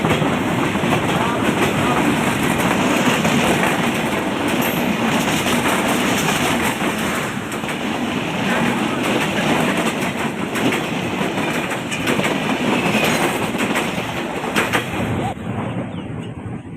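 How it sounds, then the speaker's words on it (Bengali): A train passes close by in Rajbari, producing a long, loud, continuous rumble with clattering wheel noise that fades away at the end. "আবার ট্রেন আসতেছে"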